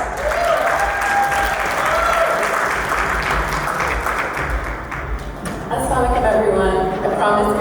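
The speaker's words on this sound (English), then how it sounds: "Please give her a round of applause." At a celebration-of-life gathering, the audience gives a speaker a sustained round of applause, a full steady clapping texture with voices briefly audible as it continues.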